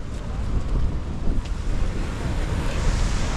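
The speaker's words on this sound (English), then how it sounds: "the beach is too rocky here and the waves are crashing too close to the shore" Ocean surf crashing on a rocky beach at Puerto Vallarta, Mexico, a steady loud roar of breaking waves mixed with heavy wind buffeting the microphone.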